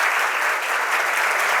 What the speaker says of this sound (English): When I say one, you clap once. When I say two, you clap twice.